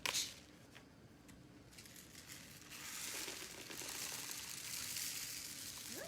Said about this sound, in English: Okay, so my rain stick is finished.